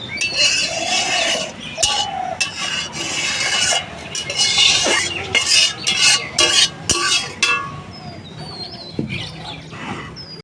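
Curry being ladled from a pot into a separate bowl in a village kitchen, with repeated scraping and clinking of metal utensils and dishes close by, and a bird or two faintly in the background.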